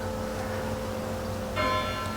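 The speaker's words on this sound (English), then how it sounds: "church bells have just rung" Ringing church bells at 1:45 near St Brides Major, Wales, with lingering, overlapping tones, a fresh strike adding bright resonance partway through.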